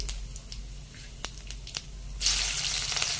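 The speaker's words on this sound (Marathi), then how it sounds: "तेल तापल्यावर प्रथम जिरे टाकावे मिरची टाकावी" Quiet kitchen background with a few small clicks, then a sudden loud sizzle as cumin seeds and chillies hit hot oil and keep crackling.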